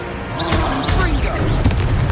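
A Confringo blasting spell explodes in Hogwarts Legacy, a loud booming burst followed by a dense rumbling crackle that fills the whole moment without pause.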